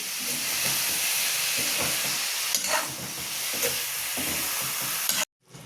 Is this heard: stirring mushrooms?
yes